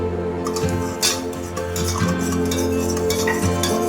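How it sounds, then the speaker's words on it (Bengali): A spoon stirring sugar, salt and oil with a splash of warm water in a bowl, soft sloshing and swirling with light clinks against the sides, continuous and close for luchi dough. "ওই চিনির মধ্যে একটু গরম জল দিয়ে ভালো করে মিশিয়ে নেব"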